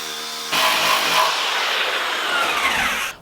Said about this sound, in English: We'll get the grinder on and we'll see what comes out.